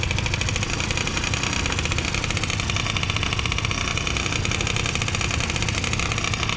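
A freshly assembled Honda Dio AF28/AF25 scooter engine idles steadily and close by, a constant buzzing putter with no breaks and no talking.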